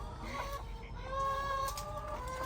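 Hens cluck softly and repeatedly in a farm yard in Texas, with a steady low background hum and occasional higher chirps from other birds.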